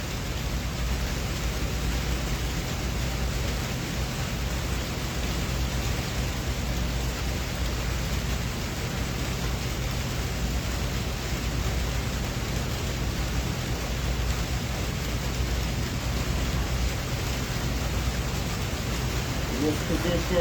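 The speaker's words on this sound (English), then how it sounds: "Let the rain wash over you." Steady, dense rain pours without a break for the whole stretch, a constant broadband hiss with a low rumbling undertone, even and close, during a quiet yoga practice; no distinct thunderclap stands out.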